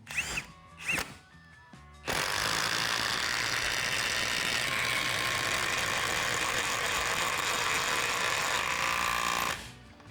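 A Procraft Industrial cordless impact driver hammers a 180 mm screw with 12 mm thread into wood in one long continuous burst of loud rapid rattling impacts after a few brief trigger blips, then stops abruptly.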